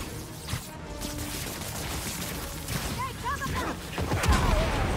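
Gunfire in the Spider-Man 2 video game, a few sharp shots and impacts amid a busy mix of combat noise and game sound effects, moderately loud, with a voice talking over it.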